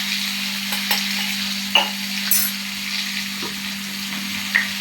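Garlic sizzles steadily in hot oil with cumin and mustard seeds for a gram greens dish, a continuous close frying hiss with a few light stirring clinks and pops.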